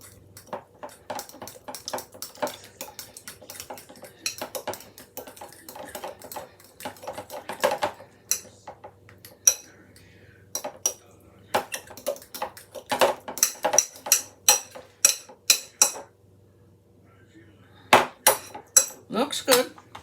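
Utensils mix buttermilk ranch dressing in a bowl with rapid, clinking taps and scrapes against the sides, coming in bursts with short pauses, close and fairly loud.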